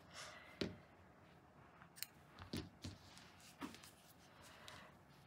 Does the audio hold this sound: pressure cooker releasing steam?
no